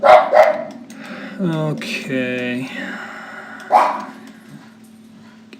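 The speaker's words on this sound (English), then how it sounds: "Sorry for the barking dog." A dog barks indoors, a few sharp near barks and a whining yelp-like whimper in sequence, with a person briefly speaking.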